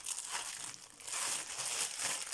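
Thin paper wrapping crinkles softly as it is folded back around a cross-stitch canvas, a close, quiet rustle lasting a couple of seconds with no talking.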